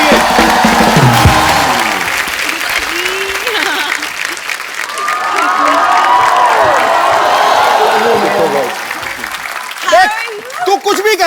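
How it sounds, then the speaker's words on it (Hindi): Loud audience applause and cheering on a Hindi TV comedy show as celebrity guests are welcomed, a dense, sustained roar of clapping with whoops, music and voices mixed in throughout. "जोरदार तालियां एक बार टाइगर और जैकी के लिए।"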